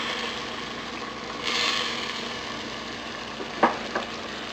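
Coconut milk (gata) and vinegar-based ingredients for ginataang puso ng saging are stirred in a pot, giving a steady soft sizzle with a brief swell of scraping and a couple of sharp utensil knocks near the end.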